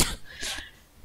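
A single harsh cough, close to the mic, followed by a fainter second burst and quiet.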